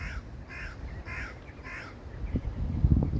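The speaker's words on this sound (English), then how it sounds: "The crows in the graveyard." Several crows caw in a graveyard, about four harsh calls in a regular run at moderate distance, followed by rustling and low handling noise near the end.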